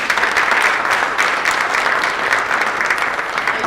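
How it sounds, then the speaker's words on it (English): Audience applause at a high school district state-of-the-schools address, a steady, dense round of clapping from a large crowd that holds evenly throughout, loud and close with no talk over it. "Let's give that a round of applause."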